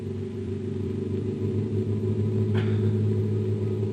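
The radial engines of a B-17 Flying Fortress bomber run in a deep, loud, continuous rumble with layered throbbing tones, holding steady and swelling slightly toward the end.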